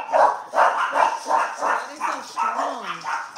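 A dog barks repeatedly in a steady rhythm of about six or seven sharp, close barks during a home crab boil, loud and clear with no talking over it.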